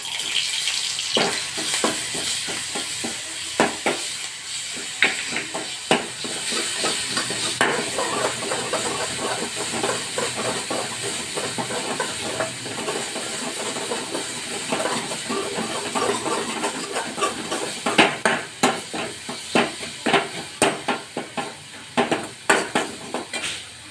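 Ground paste for a fasting amti (a peanut or coconut spice curry) sizzles and hisses as it is stirred in a hot pan, with a steady frying crackle and sharp spoon scrapes and clinks throughout. It is close and fairly loud, with no talk.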